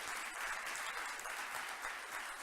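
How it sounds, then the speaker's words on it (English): A conference audience at an entertainment and media event gives a round of applause, a fairly faint, distant wash of steady clapping with no talk over it. "Round of applause for Bloomberg."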